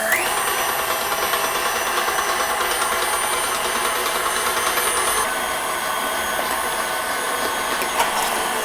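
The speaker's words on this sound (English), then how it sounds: "For this meat grinder, I cut tomatoes in quarters. It will be easier. Let's start it." KitchenAid meat grinder attachment grinding quartered tomatoes, a loud continuous motor whine with a steady mechanical hum close to the mic, running unbroken throughout.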